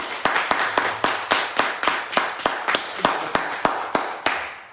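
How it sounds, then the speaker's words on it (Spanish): Sharp, evenly spaced claps, about a dozen loud strikes in a steady rhythm, at a poetry reading in Mexico City. "quiero pedir un fuerte aplauso"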